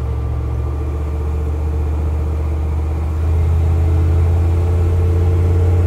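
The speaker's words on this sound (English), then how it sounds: "This is a truck big block." A 1970 Chevrolet C10 truck with a factory big block V8 rumbles nearby. A deep, steady idle swells louder partway through as the engine picks up revs.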